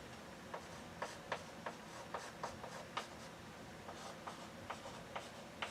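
A pen sketches a curve by hand on paper, giving faint scratchy strokes in an irregular series of short ticks and scrapes over quiet room tone.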